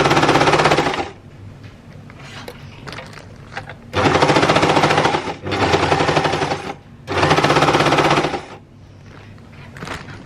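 An overlocker sews along pants fabric in three loud, rapid whirring bursts of about a second to two seconds each, separated by quieter pauses with faint handling noise.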